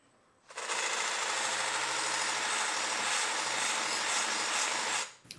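A belt grinder fitted with a non-woven belt works a knife blade. A loud, even hiss and grind starts abruptly, holds steady for about four and a half seconds, then cuts off. There is no talking.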